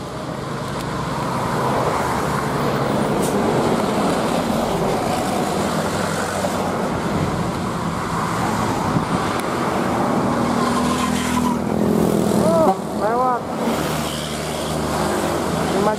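Steady, busy street traffic roars close by as vehicles pass and engines rumble, with a Doa Ibu bus idling and revving and faint voices underneath.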